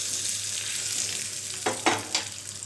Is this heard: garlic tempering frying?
yes